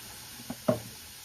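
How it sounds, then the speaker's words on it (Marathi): A green chutney mixture is stirred in a pan over a faint background sizzle, with two soft scraping knocks of a spoon against the pan close together. "हे हलवून मिक्स करा."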